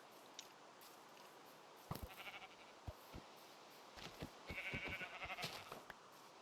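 Sheep in the Minecraft video game bleat several times in short, close calls over a quiet background, with soft game clicks and footsteps between them.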